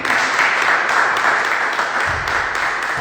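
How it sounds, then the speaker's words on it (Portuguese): A church congregation applauds during a worship service, a steady broadband wash of clapping that stays loud and even for the whole stretch, with a low rumble joining near the end. "Aplauda o Senhor."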